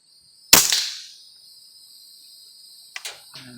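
A custom single-stroke pneumatic air rifle fires one sharp, loud crack with a short decaying ring, followed by faint clicks and mechanical handling near the end.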